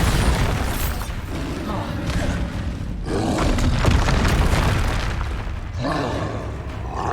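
A Bombarda blasting spell in the wizarding game Hogwarts Legacy, loud booming bursts and rumbling thuds in a dense, sustained wash of game effects and music.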